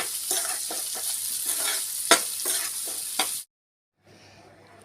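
Onion and potato for kanda poha frying in oil with turmeric, a close, steady sizzle broken by repeated stirring scrapes, then a sudden gap of silence before a fainter sizzle returns.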